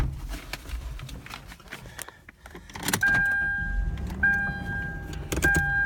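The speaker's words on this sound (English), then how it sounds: "Power antenna, as you see, works perfectly, which is pretty rare in these things." Power antenna on a Toyota 4Runner extending and retracting during a test drive, with whining motor tones that start and stop several times over road and cabin noise.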